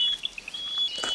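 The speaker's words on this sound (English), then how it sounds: "That is the call of the Taiwan bush warbler." A thin, high whistled bird call rings out faintly against quiet background, a Taiwan bush warbler singing in brief drawn notes in the dawn chorus of a middle-altitude mountain forest.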